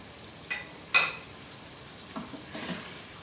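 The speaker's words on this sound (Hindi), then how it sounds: "मसालों के साथ थोड़ी सी भुनाई करें।" Mutton roasting in a pot with tomatoes, salt, chilli, turmeric and ground coriander, heard as a few scattered scraping stirs with soft sizzling between them, fairly close and quiet, with no talking.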